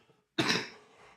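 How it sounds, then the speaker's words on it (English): A single harsh cough bursts close into a microphone after a brief silence, then trails off into a breathy tail. "I'm sorry on the audio end for coughing."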